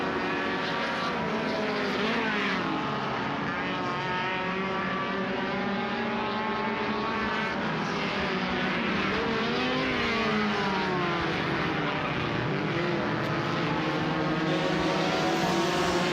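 Saloon race cars in the MRF Challenge sweep past on a circuit, a continuous loud blend of engines with overlapping rising and falling pitch sweeps as cars pass, no talk.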